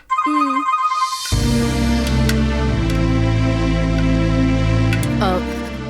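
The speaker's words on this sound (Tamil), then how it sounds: "ஃபோன் வருது, பேசிட்டு வந்துடுறேன்" A mobile phone ringtone plays a melodic, tonal tune that is loud and close, continuing for several seconds with a faint voice at the very start.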